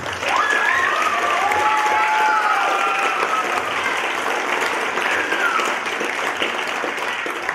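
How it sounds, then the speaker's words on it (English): Audience at a community theater Christmas show breaks into loud, steady applause with some cheering and whoops, dense clapping holding strong throughout before easing a little near the end. "I'd like to give all of our crew a great big round of applause for you guys"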